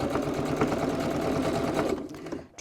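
A sewing machine stitches steadily through a zip and several layers of a wallet, its motor humming with a rapid needle rhythm close by before slowing and stopping.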